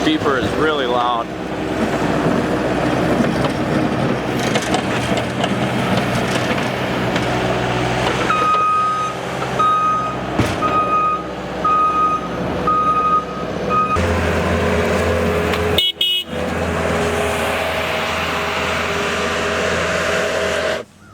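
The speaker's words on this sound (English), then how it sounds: "Beeper is really loud." Case SR240 skid loader, its loud reversing beeper sounding in a regular series of sharp tones over the machine's diesel rumble, with a voice talking nearby.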